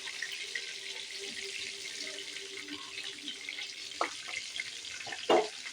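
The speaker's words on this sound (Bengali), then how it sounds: "এই তেলেতেই পাঁচফোড়ন দেব।" Panch phoron five-spice tempering crackles in hot oil for a shrimp and Malabar spinach stem dish, a soft, steady sizzle with a few sharper pops near the end, close by and without speech.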